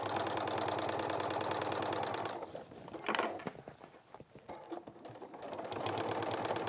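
A sewing machine stitches a messenger bag in a quiet, steady rhythmic run, pausing midway amid handling clicks and rustles before resuming its even whir.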